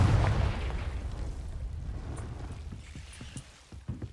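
The Confringo fire spell explodes in the video game Hogwarts Legacy. A loud, rumbling blast opens and fades into a low, dwindling roar, with a few scattered crackles toward the end.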